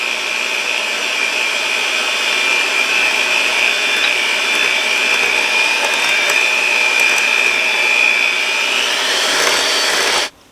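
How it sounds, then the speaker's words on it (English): An electric mixer beats the wet ingredients for a poppy seed pound cake, a loud, steady motor whine that holds for about ten seconds and then abruptly cuts off, with no talking. "I've finished mixing up our wet ingredients"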